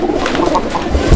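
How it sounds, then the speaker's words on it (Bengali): A male pigeon coos in a short, soft repeated burble at a pigeon market, close by with some background noise. "এই জোড়াটার এই যে নটটা ডাকাডাকি করতেছে আপনারা দেখতে পাচ্ছেন, খুব সুন্দর ডাকের কবুতর"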